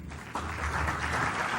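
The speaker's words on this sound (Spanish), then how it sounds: "Le damos la bienvenida con un cálido aplauso." Warm audience applause welcoming a speaker to a lecture, rising abruptly after a brief quiet moment into a steady, moderately faint wash of clapping.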